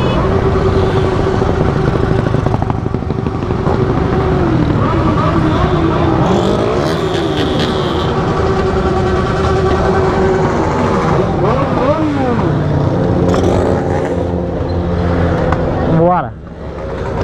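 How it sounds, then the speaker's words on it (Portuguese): Several motorcycles roar past on a road during a group ride near Rio Claro, São Paulo, engine noise loud and continuous with rising and falling pitch sweeps as bikes pass, while voices talk over it. "Tem muita moto ainda pra trás"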